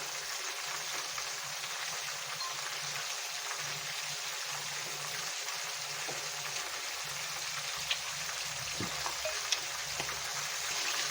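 Chicken fries in oil with a steady, continuous sizzle and a few small pops, and no one speaks.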